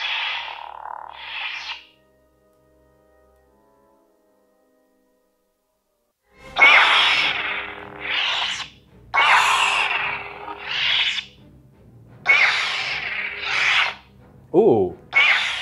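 A Luke Skywalker replica lightsaber makes its blade-lock effect: bursts of crackling, rasping hum that start, cut out into near silence, then return in repeated loud surges with a short buzzy sweep near the end.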